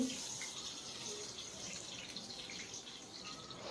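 Eggplant pieces frying in hot mustard oil in a pan over a medium gas flame, giving a steady, close sizzle with fine crackle that runs unbroken throughout, no talking.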